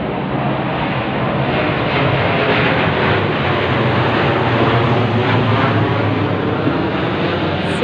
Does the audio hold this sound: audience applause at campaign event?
no